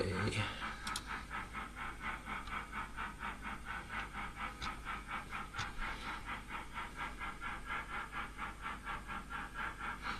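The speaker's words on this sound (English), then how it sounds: "Do you like the chuffing sound of the 8F?" A model railway 8F steam locomotive chuffs on an indoor layout, a soft, even, rhythmic puffing that repeats steadily at moderate volume, with faint background noise.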